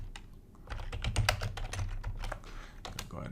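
Typing on a computer keyboard, a quick run of close, crisp key clicks in uneven bursts, fairly quiet with no talk.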